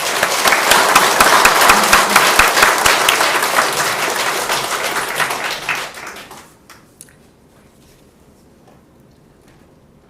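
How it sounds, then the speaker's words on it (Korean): Loud burst of applause from a congregation during a sermon, sustained for several seconds before tapering off into near silence. "다 수고하셨다고 박수 한번."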